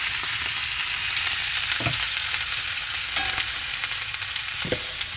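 Pork steaks sizzling in a frying pan, a dense continuous hiss of hot fat with a few sharp pops and clinks scattered on top.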